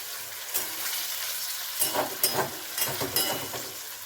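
Tomatoes frying in a pan give a steady sizzle that grows busier partway through, with a run of stirring scrapes and clatters toward the end.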